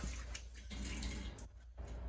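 Tap water runs steadily into a sink while soap is rinsed off hands, a continuous close splashing hiss for the whole stretch with slight dips in the flow.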